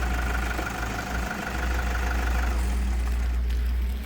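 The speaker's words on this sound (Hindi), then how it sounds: "इंजन के साउंड को देखना बहुत ही ज़्यादा ज़रूरी हो जाता है कि इंजन की साउंड कैसी है" An old car's engine idling steadily just after being started during a used-car inspection, a constant low rumbling hum with no knocking, close by and alone.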